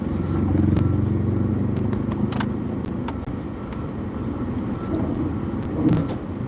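Busy street traffic in the Philippines, with cars and motorcycles passing close by in a steady, loud engine rumble throughout, with a few brief higher revs and clicks.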